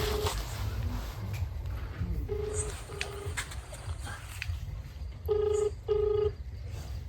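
Telephone keypad tones beep in short bursts: several separate single tones, then two longer, louder dialing tones near the end, all over a noisy room background.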